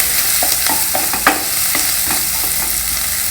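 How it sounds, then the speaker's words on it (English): Chopped onion frying lightly in a pan for a homestyle South Indian dish: a steady close sizzle with quick spoon-scraping clicks at an uneven rhythm, and no voices. "one chopped onion, fry the onions lightly."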